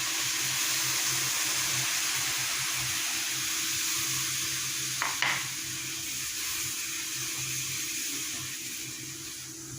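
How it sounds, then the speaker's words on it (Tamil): Aloe vera juice is added slowly to a hot pan, giving a steady sizzle and hiss with a brief metallic clink midway. "இதை வந்து நம்ம இதில் ஆட் பண்ண போகிறோம் கொஞ்சமாக சேர்த்துக்கோங்க இல்லைன்னா மேலே வந்து தெரிச்சிரும்"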